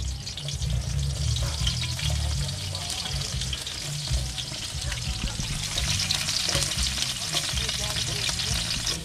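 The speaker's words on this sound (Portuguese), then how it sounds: "agora a gente pica a cebola bem cortadinha, pra ela ir fritando." Finely chopped onion fries in about half a cup of hot oil for a Brazilian vaca atolada. A steady, dense sizzle crackles close by and never lets up.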